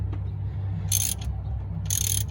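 Clicks of a half inch ratchet tightening a bolt in two short bursts over a steady low mechanical hum, close by, with no talking.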